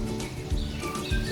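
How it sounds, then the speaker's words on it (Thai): Faint fluting oriole song drifts through an outdoor setting, with soft broadband background noise and no voices. "รู้ว่านี่คือเสียงนกขมิ้น"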